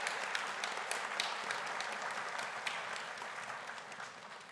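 An audience at a high school Seal of Biliteracy ceremony applauds students, with sustained, even clapping from many hands and a few sharper individual claps, slowly easing off toward the end.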